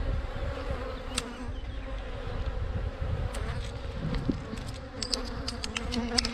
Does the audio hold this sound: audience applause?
no